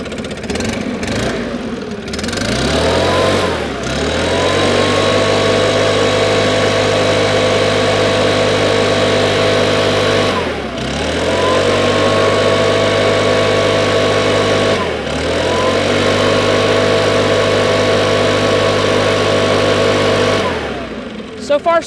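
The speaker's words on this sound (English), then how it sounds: "it's been idling for about 2 or 3 minutes now." A Stihl BR550 4-Mix backpack blower engine runs loud and close, its steady idle drone dipping and recovering in pitch a few times as revs sag and pick up, with a brief voice near the start.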